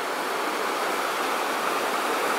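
A swift river rushes along a Pacific Crest Trail crossing in the mountains, producing a continuous, even roar of flowing water close by with no voices.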